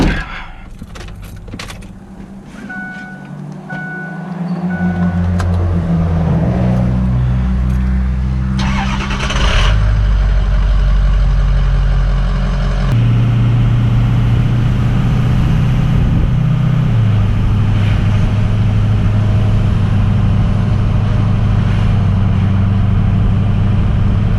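Ford 6.0 Powerstroke diesel truck on a test drive: keys jingle, the engine cranks and starts, then a loud steady diesel drone builds and holds, shifting pitch as the truck pulls away under load.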